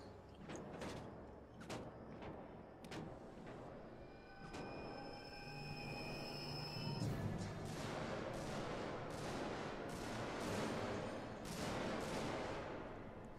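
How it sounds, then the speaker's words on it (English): Enemy gunfire in the Alien: Isolation survival horror game, heard as repeated sharp bursts and shots over a steady mechanical ambient drone, with louder clustered firing in the second half. "These idiots are shooting all the wrong way."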